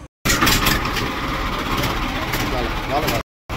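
A motor boat engine runs close by, setting off toward a sea fort, with a steady, loud, unbroken drone that cuts in and out abruptly at either end.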